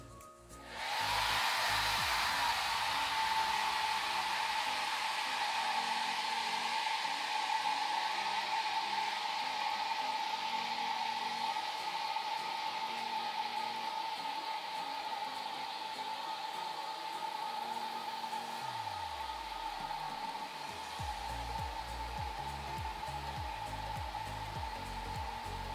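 A handheld hair dryer blows steadily close by as it dries the hair at the nape of the neck, a loud, even whirring rush that runs unbroken for the whole stretch, dipping slightly in tone near the end.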